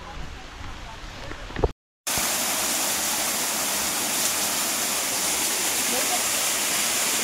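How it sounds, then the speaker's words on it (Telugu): Antharaganga waterfall near Hyderabad roars as a steady, loud broadband rush of falling water, briefly cut by a short gap before resuming unbroken, with quieter wind-like wash in the opening seconds. "వాటర్ ఫాల్ ఇదనమాట. చూస్తున్నారు వాటర్ ఫాల్స్."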